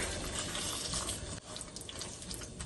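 Water poured into a pan of cluster bean curry, a brief close steady splashing pour with a slight dip midway.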